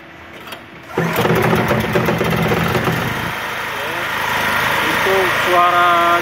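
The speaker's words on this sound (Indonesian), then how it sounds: "Nanti kita nyalakan gensetnya terlebih dahulu." A small welding generator engine, a Solid 125A, sputters to life after a brief quiet, then settles into a steady buzzing idle; a voice speaks briefly near the end.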